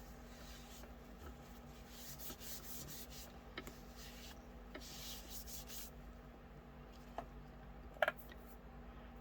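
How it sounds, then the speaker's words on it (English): A baby wipe wiping up UV resin mess on a work surface, faint continuous rubbing with a few small clicks and a sharper tap near the end, no talking. "just clean up your mess with the baby wipe"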